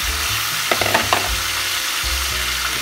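Okra added to pork frying in a pan: a close, steady sizzle with a few clacking stir strokes in the middle, no talking.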